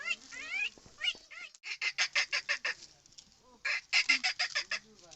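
A human voice imitates a parrot talking, producing a quick rhythmic run of squawky, nasal syllables in two bursts with a short pause between.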